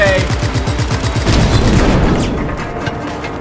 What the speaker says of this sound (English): You're shooting at me right now.